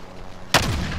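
A single sharp sniper rifle shot in Call of Duty Warzone cracks loudly after a quiet moment, then rolls off in a booming tail.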